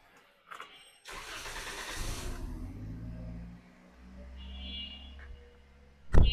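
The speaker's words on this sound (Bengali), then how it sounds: "ইঞ্জিন সাউন্ড কেমন" A used Kia Picanto car: a brief click, then the starter cranks and the engine catches and settles into a steady idle heard from outside, ending with a sharp loud thump.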